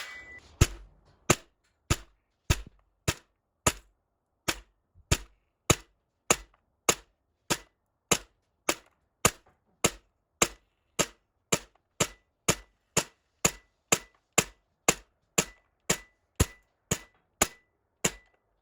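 A TM MWS airsoft gun on black gas fires 0.2 g BBs in roughly thirty-odd sharp, loud single shots at an even, brisk pace, each crack clean and separate with near silence between.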